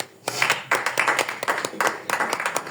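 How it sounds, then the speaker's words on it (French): A church congregation claps together in loud, rhythmic bursts of hand claps, close and lively, with no voices. "Acclamez-vous très fort."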